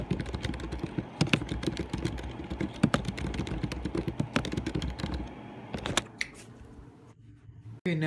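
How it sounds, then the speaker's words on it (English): Rapid typing on the keyboard of a Lenovo Yoga 7 laptop from 2024, a steady run of close, crisp key clicks that thins out and stops near the end, with no talking. "Time for some keyboard ASMR."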